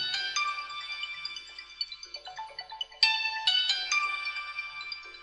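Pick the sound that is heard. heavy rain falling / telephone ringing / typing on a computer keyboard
telephone ringing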